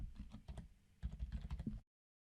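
Text typed on a computer keyboard, a quick run of soft close key clicks, a brief pause, then a denser burst before silence.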